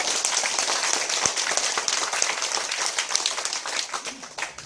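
An audience applauds newly admitted social welfare students at a university acceptance ceremony, a sustained wash of many hands clapping at moderate loudness that tapers slightly toward the end.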